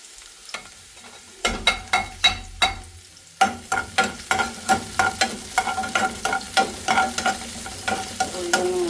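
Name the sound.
small onions and cooked mutton frying in oil in a pan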